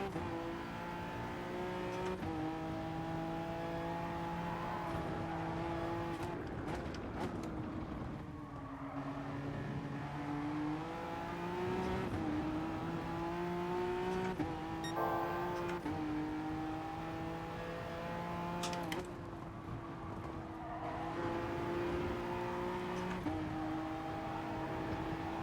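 Lamborghini race car in Gran Turismo Sport, its engine revving and shifting continuously through gears with rising and falling pitch, loud and steady throughout, with no talk over it.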